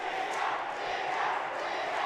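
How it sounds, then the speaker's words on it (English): Crowd sections at a wrestling match cheer for their wrestlers in a steady, dense roar that fills the venue and holds level throughout. "So now you have both wrestlers sections cheering for their guys"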